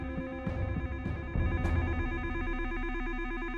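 A telephone rings in a tense indoor scene, giving repeated electronic trilling pulses that are steady, close and clear over a low background.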